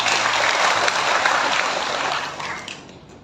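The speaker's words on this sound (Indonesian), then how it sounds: "Bupati Badung, Bapak Bagus Hadid Sucipto, kita berikan tepuk tangan." A crowd at a Hindu religious-holiday aid event in Badung gives a round of applause, loud and dense at the start, then fading steadily over about three seconds.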